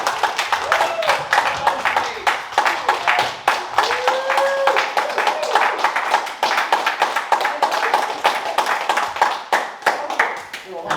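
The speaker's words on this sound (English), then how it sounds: "can we have one more last big, huge round of applause for Sinead Keane?" A book launch crowd applauds steadily for several seconds, dense clapping close and loud, with a few voices and a whistle rising above it.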